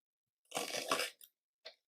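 A knife slices through half an onion cut lengthwise in a few quick crunching strokes, one long cut followed by two short, crisp ones, close and fairly quiet.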